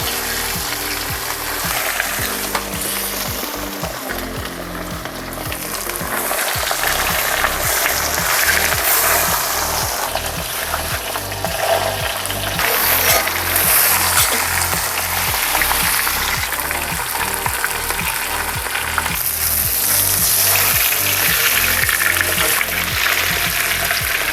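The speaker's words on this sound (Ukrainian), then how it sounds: "Тепер обсмажуємо всі рульки до красивої золотої скоринки." Pork knuckles fry in sunflower oil inside a cauldron, giving a steady, loud sizzle that runs the whole time, with occasional clatters as the heavy pieces are turned.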